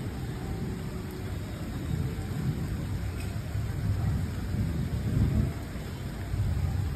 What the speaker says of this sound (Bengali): এই দেখো কেমন জোরে বৃষ্টি পড়ছে।